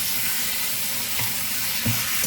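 Shrimp and chicken ramen sizzles in a pan as it is stirred, a loud steady frying hiss with faint scraping, close up and without talk.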